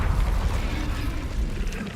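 Incendio fire spell cast in Hogwarts Legacy, a dense, continuous roaring whoosh of flame with heavy low rumble, loud and steady for the whole stretch with no talking over it.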